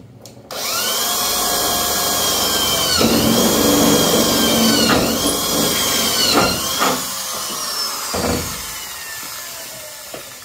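A loud power drill whines steadily into a car hood's metal, pausing briefly and restarting several times, close up with no talking.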